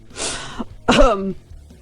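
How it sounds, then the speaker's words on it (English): A single close cough: a short breathy burst followed by a louder, rougher hack with a voiced edge. "what the fuck was that cough at the end?"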